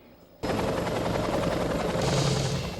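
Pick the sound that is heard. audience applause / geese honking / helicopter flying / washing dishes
helicopter flying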